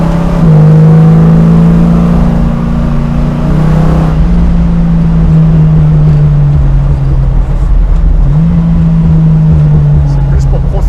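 A Dodge Charger engine drones loud and close, its pitch rising and falling as it revs repeatedly, with a rough rumble throughout.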